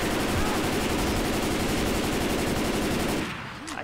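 Dense, continuous automatic gunfire from Left 4 Dead 2, loud and unbroken for about three seconds before cutting off abruptly into quiet.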